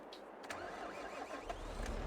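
A tractor engine cranks and catches in Farming Simulator 22, a brief low starter whir settling into a rumbling idle, fairly faint.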